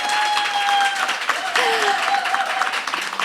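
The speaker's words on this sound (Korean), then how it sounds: "박수 한번 부탁드립니다." An audience at a book concert in a local community hall applauds, with dense, steady clapping running throughout, loud and near, and some voices and cheers mixed in.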